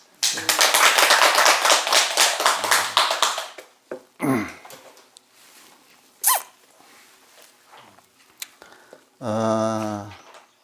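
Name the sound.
audience clapping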